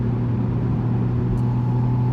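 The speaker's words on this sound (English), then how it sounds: "All of the noise comes from the induction that happens just behind my ear hole." Porsche Spyder RS engine induction noise from just behind the driver's head, roof down, a steady close mid-pitched drone with a deep low hum, held evenly throughout without any revving surge.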